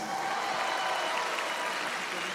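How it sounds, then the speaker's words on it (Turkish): Applause from a concert audience at an open-air show in Harbiye, a steady wash of clapping across the whole moment, moderately loud and unbroken, with no voices over it. "o kadar da istekli gelmedi alkışlar"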